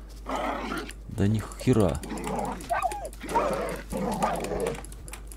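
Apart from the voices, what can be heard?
dogs growling and attacking, from a video game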